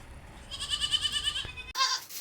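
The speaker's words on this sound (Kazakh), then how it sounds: "Бойы биік ірі ешкі." A large, tall dairy goat gives a close, loud, wavering bleat lasting about a second, followed by a short second bleat after a brief gap.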